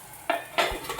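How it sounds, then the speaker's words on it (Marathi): A metal lid is set onto a pan of rava batter on the stove for steaming, giving two short clanks about a quarter second apart, followed by faint rattling and a soft sizzle. "आता याच्यावर मी ठेवणार आहे झाकण आणि जवळजवळ 10 मिनटं हे वाफवून घेणार आहे"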